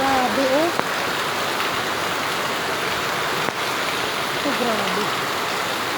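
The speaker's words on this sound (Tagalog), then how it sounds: "lakas naman ang ulan" Heavy storm rain pours in a dense, unbroken roar outside open windows, loud and steady, with a voice speaking briefly over it.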